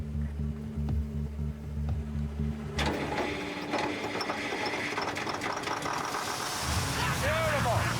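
An old Detroit diesel engine cranks and catches on an ether starting aid, then settles into a steady, loud running drone with metallic clatter, the pitch and noise building toward the end.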